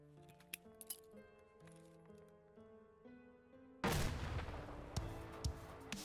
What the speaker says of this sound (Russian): Вот пример броска гранатой по ориентиру фонарика.